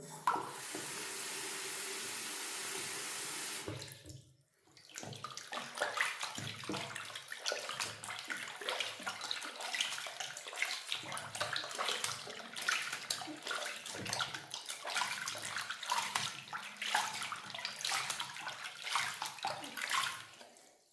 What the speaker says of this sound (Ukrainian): Зараз прополосчу ці шкарпетки і ми глянемо, чи при полосканні видає фарба